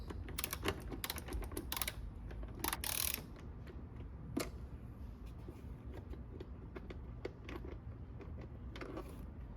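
A ratchet wrench fitted with a 10 mm socket clicks rapidly while turning the bolts of an air intake on a Hyundai Veloster N, with bursts of close, fast ratcheting followed by quieter, sparser clicks.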